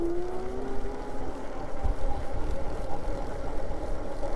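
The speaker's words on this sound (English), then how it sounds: "The motor kicked in" Electric hub motor of a Varun X-Plorer fat tire ebike running while riding, a faint rising whine over steady low rumble and road or wind noise.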